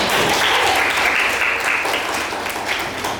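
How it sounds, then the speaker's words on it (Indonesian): Bright, sustained applause from a classroom audience of adults fills the space, many hands clapping densely and evenly, fairly close and loud throughout with no break. "Tepuk tangan dulu Bapak Ibu"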